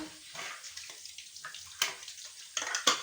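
Water rinses a carpet being washed, heard as intermittent splashing bursts and rushing spray, with quieter gaps between louder gushes near the end, close by and with no talking.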